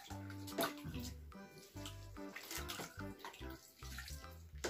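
Water running and splashing from a tap as a baby doll is rinsed in a small bath, irregular pouring and sloshing close by, fairly faint.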